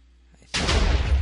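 A TNT cannon in the Minecraft video game fires once after a faint quiet lead-in, giving a single loud, booming blast that rumbles on to the end.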